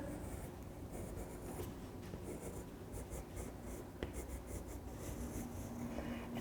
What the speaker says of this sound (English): I'm mixing in the brown and the green together, and I'm rotating my pencil.